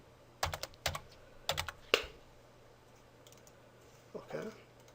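Computer keyboard typing while coding JavaScript: a few quick bursts of sharp key clicks, then a pause and a fainter flurry of taps, close and clear.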